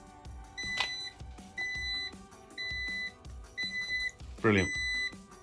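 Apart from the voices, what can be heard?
HITWAY H9 Pro e-scooter indicator beeping, other side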